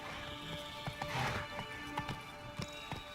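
Roach the horse in The Witcher 3 Blood and Wine galloping, a quiet run of uneven clip-clop hoofbeats over a low background hum, fairly faint with a brief swell of noise near the start, no clear talking.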